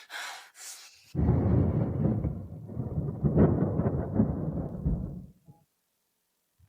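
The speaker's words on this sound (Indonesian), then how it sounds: "Ada badai di luar." A thunderstorm rumbles outside in a deep, rolling roar of thunder that swells for about four seconds before cutting off, preceded by a brief breathy sound.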